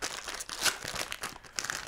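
Plastic packaging on a painted sci-fi toy figure being cut and pulled open, giving close, brisk crinkling and crunching bursts.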